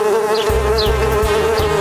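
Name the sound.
bees buzzing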